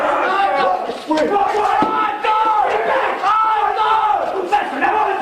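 Military recruits at receiving yell together in loud, sustained unison screams, a dense crowd of strained voices rising and falling over several seconds with brief dips between bursts.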